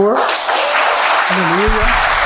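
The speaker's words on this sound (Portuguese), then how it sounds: "Você pode aplaudir ao Senhor" A church congregation applauds during a worship service, with clapping mixed under a voice and some sustained tones, loud and close throughout the short stretch.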